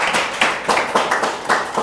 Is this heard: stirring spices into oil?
no